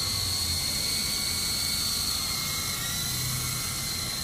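A Syma S37 2.4 GHz three-channel RC helicopter flies nearby with a steady, continuous rotor whine and motor hum, holding altitude without pause and with no talk over it.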